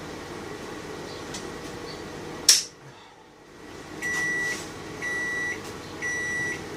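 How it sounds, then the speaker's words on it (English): A microwave oven hums steadily, a sharp click, then a quieter stretch before the hum returns, with three pairs of electronic beeps as it finishes. "Don't need that on now because I'm using the microwave."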